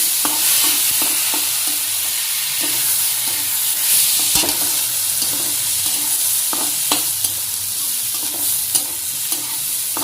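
Soaked rice and lentil mixture frying with green chili in a pan, a loud close hiss punctuated by repeated scraping and tapping of a spoon as it is stirred, with no voices.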